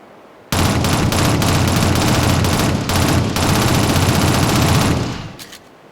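Automatic gunfire from the 2007 Shadowrun video game rattles out in dense, loud bursts for about four seconds, briefly breaking near the middle, then tails off with a few scattered trailing shots.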